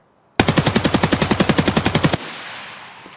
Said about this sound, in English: we'll shoot at the side of that barn right there